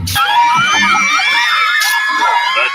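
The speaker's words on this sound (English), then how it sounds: "The deafening scream can mean only one thing." A large crowd at a live podcast event in New York screams loudly and continuously, a dense, sustained roar of high-pitched shrieks and whoops.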